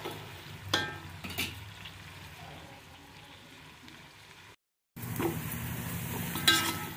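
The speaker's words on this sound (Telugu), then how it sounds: "ఇప్పుడు బాగా హై మీద ఉంచి బాగా ఇవి క్రిస్పీ అయ్యేదాకా ఉల్లిపాయలు వేయించుకున్నాము." Onions fry over high heat until crispy, giving a soft, continuous sizzle with occasional stirring scrapes and a short gap of silence partway through.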